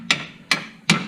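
Hammer tapping a bolt on a car strut, three sharp metallic strikes spaced evenly about 0.4 seconds apart, loud and close with short ringing decay, no voices.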